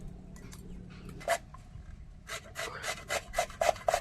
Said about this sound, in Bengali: গাজর গ্রেট করা হয়ে গেল আমার